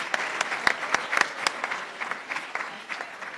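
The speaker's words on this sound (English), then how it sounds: "Can we get one more round of applause to our auto tech students?" Scattered clapping from an audience honoring auto tech students at a program, sharp individual claps standing out at first, then thinning into lighter, uneven applause.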